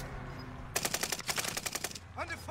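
Rapid automatic gunfire in the battle-royale shooter Warzone, a dense burst of about a dozen close shots lasting over a second, followed by a brief electronic game cue.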